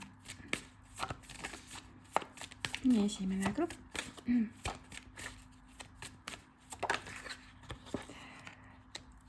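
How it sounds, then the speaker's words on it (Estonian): A deck of oracle cards is shuffled close by, and cards are drawn from it, giving a steady run of soft, papery flicks and slaps while a person talks quietly over the sound. "ma võtan siia siis veel valguselooja sõnumi ehk siis iseenda kaardipakist mõned kaardid sulle"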